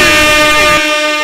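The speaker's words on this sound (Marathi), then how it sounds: "खूप मोठ्याने हॉर्न वाजला" A loud, sustained horn blares at a cricket match during a power-play over, a steady harmonic tone that fills the moment and drops slightly in loudness partway through without stopping.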